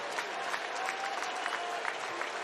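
A stadium crowd cheers and claps at a Brewers vs Cardinals baseball game on the night the Cardinals clinch a wild card spot, a broad, continuous wash of applause and shouts heard from a distance, with no talk over it.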